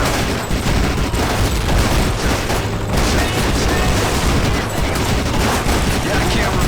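Heavy, sustained gunfire with booming blasts from the first-person shooter NecroVisioN, loud and nearly continuous, rapid shots blending into a dense wall of battle noise.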